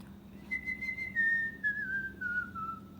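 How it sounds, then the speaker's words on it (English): A person whistles a short, slowly descending melody, clear and close, over faint low background hum. "What was I just whistling?"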